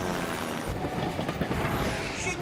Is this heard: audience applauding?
no